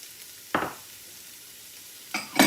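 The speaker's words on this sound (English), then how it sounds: "So I want to saute those in that butter" Chopped carrots and onion saute in butter in a pot, a low sizzle with two short bursts of stirring or scraping as the vegetables are moved.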